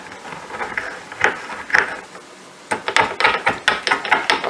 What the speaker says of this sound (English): I don't want to grind this too much.